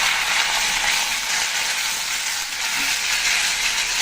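Vegetables with slit green chillies, ginger paste, cumin paste and sour yogurt sautéing in a pan, giving a loud, steady, unbroken sizzle and hiss across the whole stretch with no one talking.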